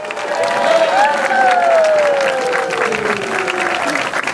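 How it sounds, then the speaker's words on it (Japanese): An audience claps loudly and steadily as the top three finishers are announced at the 2018 office-chair race grand prix final in Kyotanabe, Kyoto, with a voice and tonal sounds running over the applause. "皆さん、今一度盛大な拍手をお願いいたします。"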